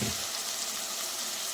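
Chicken fries in a pan with turmeric and chili powder for an Andhra-style chicken curry, giving a steady, close, hissing sizzle for a moment with no voices.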